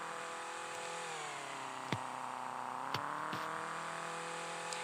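A car engine in the Flex Body Engine demo driving game revs and accelerates steadily with a rising tone, with a few sharp clicks or impacts along the way and no talking.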